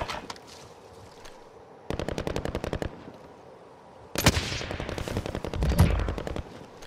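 Bursts of automatic video-game gunfire as rounds come incoming: a fast rattling volley, a pause, then a heavier sustained barrage with a deep thud near the end, fairly close and with no voices over it.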